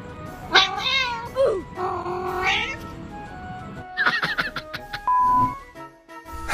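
A cat meows repeatedly while playing, giving several loud, close, drawn-out calls with rising and falling pitch, followed by shorter chirps and rustling.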